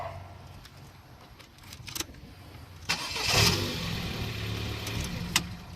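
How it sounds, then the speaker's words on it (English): A Volkswagen Golf engine cranks and catches around the middle of the clip, then settles into a steady idle close by, with a few clicks and clunks before it. "and start the car"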